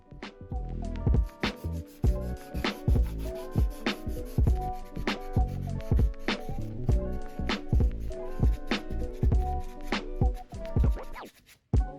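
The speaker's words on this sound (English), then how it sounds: "definitely wear a mask when sanding this stuff" Rough, repeated scraping strokes of sandpaper rubbing over hardened modeling paste, steady back-and-forth rhythm, close and fairly loud with no talking.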